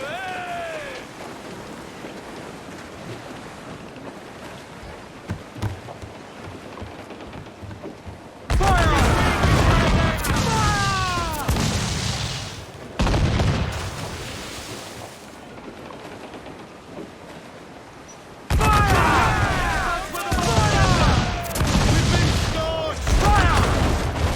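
Cannon fire from a sailing warship in the pirate naval battle game Assassin's Creed IV Black Flag: two loud rolling broadside volleys of booms with crackling debris follow quieter shipboard ambience and shouted crew voices.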